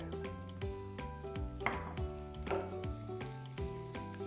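Asafoetida tempering in hot oil in a pan, for a mixed vegetable raita, sizzles and crackles steadily and close, with light stirring, over soft background music.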